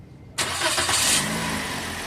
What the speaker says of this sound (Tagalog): Pa-start ko na nga itong makina.